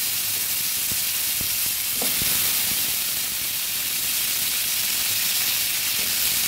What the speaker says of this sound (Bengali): কয়েকটা সজনে ডাঁটা কেটে নিয়েছি, এগুলোকে একটু ভেজে নেব।